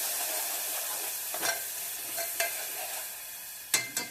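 Brinjal curry masala with fried green chillies and salt is mixed in a pan: a faint, soft sizzle under several scraping spatula strokes, the last two sharper and closer together, with no talk.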